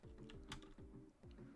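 Computer keyboard keys tapped in quick clusters while playing a game jam entry, crisp clicks standing out over a repeating low musical pattern from the game.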